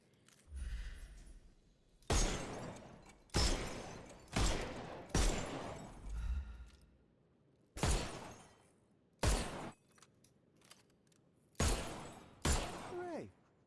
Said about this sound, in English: You need to hit every target to show the sergeant how we do it